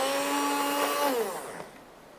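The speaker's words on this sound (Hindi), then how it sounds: "यहाँ पर मेरे पास जो हैंड बीटर है उसको हम चलाएँगे और इसको सब चीज़ों को मिक्स करेंगे" Electric hand beater whirring steadily as it mixes zarda ingredients, then winding down in pitch and fading to a quieter hum near the end, with no talk.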